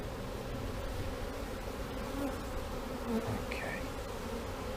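A honey bee swarm hums steadily at a hive entrance, a dense continuous buzzing close by, with single bees droning past and a brief word spoken over it.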